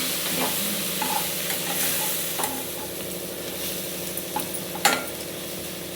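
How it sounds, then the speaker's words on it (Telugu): Cauliflower gobi pieces fry with spices and chilli powder in a hot pan, a steady close sizzle with occasional scrapes and clinks of a stirring spoon, no voices. "బాగా వేయించుకోవాలి."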